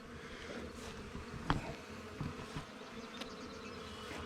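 A honeybee swarm buzzes around a newly installed hive outdoors, a faint, steady drone with a few individual bees passing close by.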